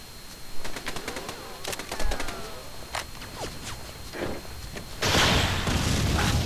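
Gunfire in the video game Breakdown, a rapid volley of sharp, close shots crackling over several seconds, followed by a louder rushing burst of noise at the end.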